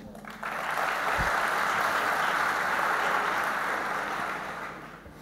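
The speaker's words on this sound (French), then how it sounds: "je demande à tout le monde de les applaudir" An audience at an opening address breaks into loud, sustained applause that starts abruptly and fills the room for about five seconds before tapering off, with no voices over it.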